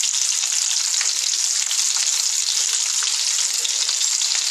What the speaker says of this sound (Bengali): আস্তে আস্তে ঘুরিয়ে ঘুরিয়ে চারিটের দিক আর কি ভালো করে ভেজে নিতে হবে